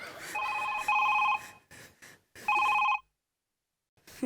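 A telephone rings in two clear, bright electronic bursts on a comedy stage, followed by a short silence.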